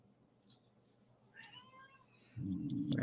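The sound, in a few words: cat meowing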